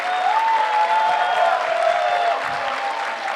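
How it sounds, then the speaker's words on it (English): A crowd at a Get on My Level esports tournament gives a steady, loud round of applause with scattered cheers, filling the whole moment without letting up. "Give him a round of applause as loud as you can fucking get."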